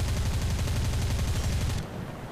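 Aircraft guns hammer out a rapid, continuous burst in War Thunder, a dense rattling stream of shots that stops abruptly near the end, leaving a quieter engine drone.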